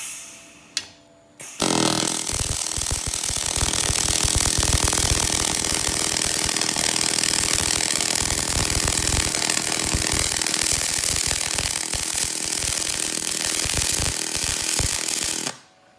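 MIG welding of 309 stainless steel using a Pro Pulse 200 in pulse mode with 100% argon shielding gas: a steady, close crackling buzz runs for about fourteen seconds without a break, then cuts off sharply.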